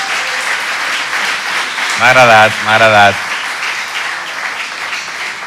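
Audience applause on a talk show, a steady wash of clapping under the proceedings while someone briefly speaks over it midway.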